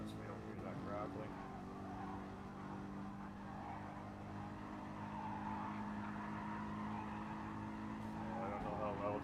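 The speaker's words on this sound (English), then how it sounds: "How's the sound of the car for you guys coming through the stream?" Race car engine in a GTC-3 GT racing video game, a steady droning hum that holds near one level throughout, fairly faint and under a person talking almost the whole time.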